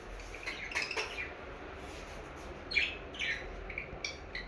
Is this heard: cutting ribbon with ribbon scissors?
no